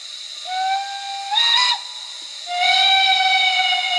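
A Lenz O-scale sound decoder for a DB class 55 model steam locomotive blows off steam in two loud, steady hissing bursts with whistle-like tones, the second longer and sustained to the end, with no voices.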